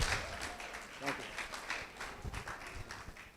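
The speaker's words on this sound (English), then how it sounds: "a round of applause for Razak" An audience at a food business summit claps for an honoree, fairly faint and uneven, with a few sharper claps standing out and a voice speaking over part of it.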